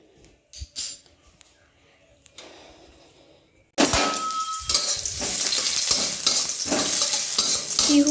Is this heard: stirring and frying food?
yes